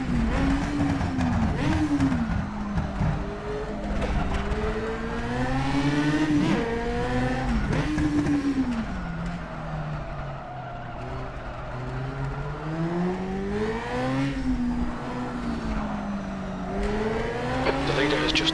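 A Formula car in rFactor 2 at Monaco screams through the street circuit, revving up and down with shifts, and tire squeal joins in as a front wheel locks under braking, while a voice talks over it.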